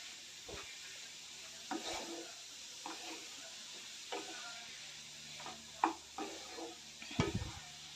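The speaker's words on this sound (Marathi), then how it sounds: "आता हे सर्व मिक्स करून घेते" Cabbage curry with dal, onion and tomato being stirred in a pan: quiet, intermittent spoon scrapes and clinks over a faint sizzle, with a few sharper knocks near the end.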